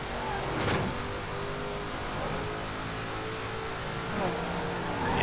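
A 1987 Ford Sierra Cosworth RS500, a touring-car homologation model, accelerates in the racing game Forza Horizon 4, giving a steady, sustained engine drone with a few rising swells at moderate loudness and no voices over it.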